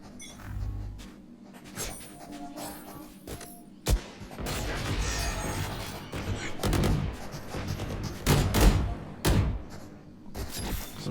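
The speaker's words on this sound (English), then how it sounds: "Some gunfire traded from both teams," Bursts of gunfire crack back and forth over a steady Valorant match soundscape, with sharp thuds and a cluster of louder shots near the end.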